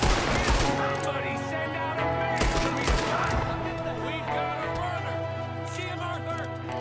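Gunfire in Red Dead Redemption 2, a steady volley of close, sharp shots over a sustained droning backdrop of music and game ambience.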